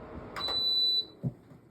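A tower fan shuts off with a single long, high electronic beep lasting over half a second, clear and close, preceded by a couple of soft clicks and followed by a light thump.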